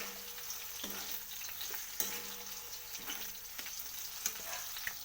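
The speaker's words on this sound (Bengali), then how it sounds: "মিষ্টিটা দিয়ে আমি আরেকবার নাড়িয়ে নিলাম" Vegetarian bean pathuri, sweetened, is stirred in a pan with a soft, continuous sizzle and a few light utensil scrapes and taps, quiet and close.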